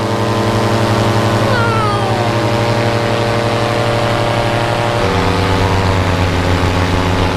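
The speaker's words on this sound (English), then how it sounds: "The motor is running like an absolute dreamer at the moment." A Tornado 280 XC aircraft motor running steadily near at hand, a loud continuous engine drone that shifts to a lower, settled pitch partway through, with no talking.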